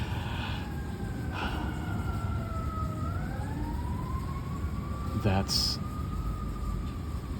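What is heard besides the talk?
emergency vehicle sirens ringing outside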